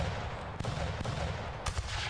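Blunderbuss shots spraying shrapnel in the Revolutionary War game Rise of Liberty, a few sharp cracks standing out over dense, noisy battle din, loud and close with no talk.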